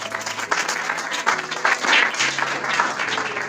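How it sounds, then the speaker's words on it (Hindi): Loud, steady applause from a church congregation clapping for Jesus, dense and continuous throughout with a faint tonal hum beneath. "यीशु के लिए जोरदार ताली बजाएं, जोरदार।"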